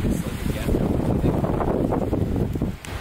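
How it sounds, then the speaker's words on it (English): Strong wind blows outdoors by the sea beside an abandoned beach mansion, a dense, gusting roar with heavy microphone buffeting that stays loud throughout. "really windy out here today"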